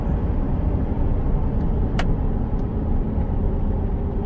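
An old truck drives along a road, its engine and tire roar steady and loud from inside the cab, with a brief sharp click partway through.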